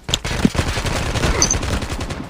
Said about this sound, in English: Put gunshots near me.